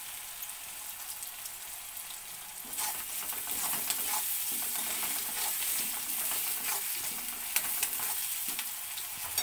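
Crushed garlic drops into hot oil for a rohu fish curry, and a bright sizzle jumps up partway through and holds steady, with light crackling and stirring and no voices.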